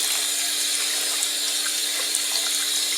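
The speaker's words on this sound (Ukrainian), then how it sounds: "Промиваємо гриби холодною водою" Cold water streams steadily from a tap over mushrooms being rinsed, a constant close hiss with faint splashing, no talking.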